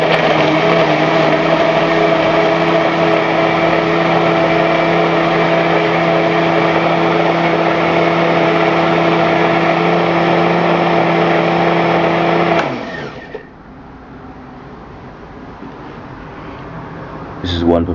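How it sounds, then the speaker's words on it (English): A kitchen blender whirs at high speed, pureeing chunks of papaya until smooth, a loud steady motor drone that suddenly cuts off near the end, leaving quiet room tone. "blend it down till it's smooth."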